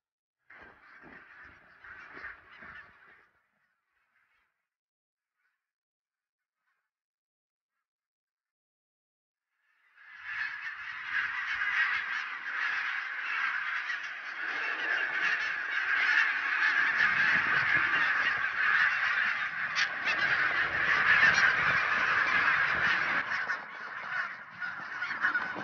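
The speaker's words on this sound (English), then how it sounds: "The geese will tell it in autumn, runs a Gaelic saying. And now the whole of Islay rings with their cries." A large flock of geese on Islay in autumn honks in a dense, overlapping chorus, first a brief burst, then silence, then a sustained loud clamour of many calling birds.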